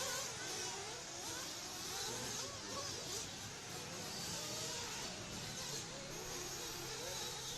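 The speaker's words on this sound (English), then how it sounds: "Sounds like in the background I hear a car stuck wide open." An R/C off-road race car at an outdoor racing event is stuck at full throttle, producing a continuous high-pitched buzzing whine in the background, steady and distant, amid track noise.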